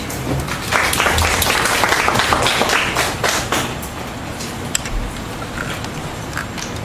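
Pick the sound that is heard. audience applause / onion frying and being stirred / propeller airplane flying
audience applause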